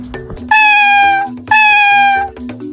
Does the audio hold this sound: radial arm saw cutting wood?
no